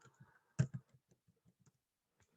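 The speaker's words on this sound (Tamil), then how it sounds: "இதுக்கு உங்களுடைய பேர்கள் டைப் பண்ணீங்கன்னு வச்சுக்கொள்வோம்." Keys on a computer keyboard click in a short, irregular burst of typing, with one louder clack near the start and scattered lighter taps after, close and quiet with no talking.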